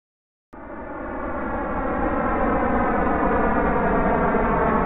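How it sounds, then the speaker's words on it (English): An airplane passes overhead with a steady, loud droning engine tone that starts abruptly after a brief silence and holds evenly, with no voices. "Now let's look at the sound of our plane."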